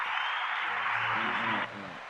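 Audience applause on a podcast set fills the room, a dense steady clatter of clapping for about one and a half seconds that stops abruptly, followed by a voice.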